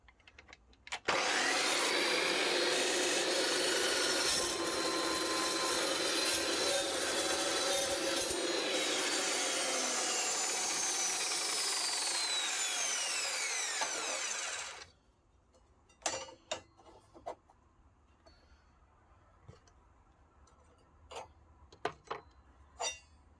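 A Makita LC1230N metal cutting saw cuts through two metal railings at once, a loud continuous grinding whine lasting about fourteen seconds, then stopping abruptly, followed by scattered clanks and knocks of handling.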